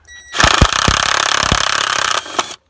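A Ridgid power tool loosens the seized battery hold-down bolt on a 1999–2004 New Edge Ford Mustang, a loud close burst of rapid hammering with a few heavier knocks, then abrupt silence.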